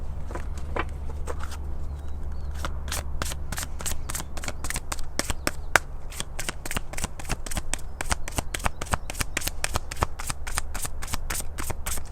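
Tarot cards are shuffled in quick, crisp riffling bursts, a steady close-up run of papery flicks repeating for several seconds over a low background hum.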